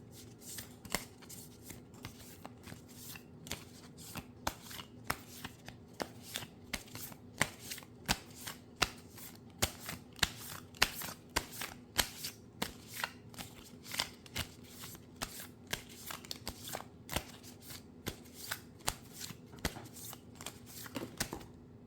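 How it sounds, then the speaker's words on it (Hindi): A deck of tarot cards is shuffled by hand in a long, steady run of crisp riffling slaps and flicks that repeat for about twenty seconds, close and fairly quiet, with no talking. "सो लेट मी सफल सम cards for you so that I can continue your reading."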